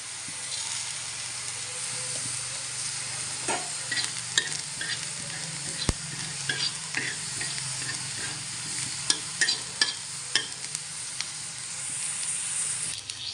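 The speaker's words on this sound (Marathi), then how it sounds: "आता थोडे मी धने भाजून घेते" Coriander seeds dry-roasting in a pan, stirred continuously, giving a steady close hiss broken by rapid rattling scrapes and occasional sharp clacks of the spoon, without talk.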